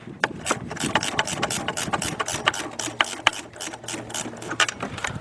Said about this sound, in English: what I got here is my Craftsman speed wrench, 5/8